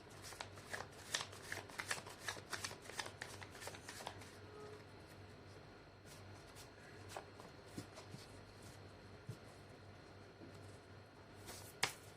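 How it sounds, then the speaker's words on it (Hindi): Tarot cards being shuffled by hand, a rapid run of crisp flicks and riffles up close, then quieter shuffling with scattered taps and a final sharp snap. "मैं कर लेती हूँ कार्ड की शफलिंग।"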